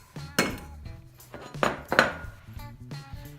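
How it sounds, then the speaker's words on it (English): Atta dough for roti is set into a bowl, with a few hollow clinks and knocks of the bowl and utensils on a countertop, close and fairly quiet, with pauses between. "Now we do have to let it rest, so I'm going to put it in a bowl"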